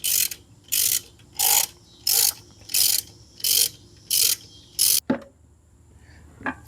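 A ratchet wrench clicks in eight even, evenly spaced bursts while backing out a half-inch bolt on a Jeep Wrangler, followed by a metallic clunk and faint handling noises, close and clear.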